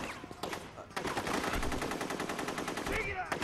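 Sustained automatic gunfire in the video game Rogue Warrior, a dense, loud rapid burst running for several seconds with a brief pause near the start, with a voice faintly under it.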